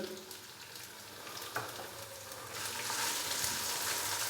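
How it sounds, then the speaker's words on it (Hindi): Ginger, garlic and green chilli paste sizzles and crackles in a hot pan, a soft steady frying hiss that swells louder toward the end, with a faint clink of stirring. "अच्छे से मिक्स करेंगे और हल्का सा इसको फ्राई कर लेंगे"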